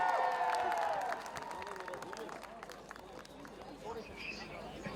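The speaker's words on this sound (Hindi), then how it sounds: "स्वागत कीजिए आहान शेट्टी का, जोरदार तालियां।" A crowd applauds faintly at a song launch event in Jaisalmer, with scattered claps crackling at a distance. A voice sounds over the opening moment.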